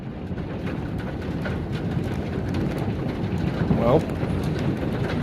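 Hail falls steadily on a wheat farm, a dense continuous patter with gusty wind noise, while a person speaks briefly over it.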